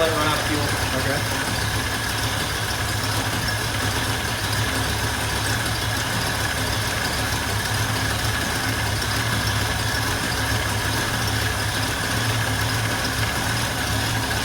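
A 1965 Ford Mustang V8, long unmoved and now with fuel leaking from the carburetor, idles steadily and loudly with a constant low rumble, nearby and unbroken throughout.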